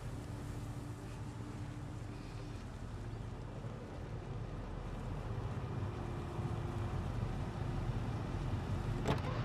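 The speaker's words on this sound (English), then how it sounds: "I'm purposely leaving the van running because engine noise drags or draws zombies" A van's engine idles in the zombie survival game Project Zomboid, a steady low rumble that holds evenly throughout with no talking.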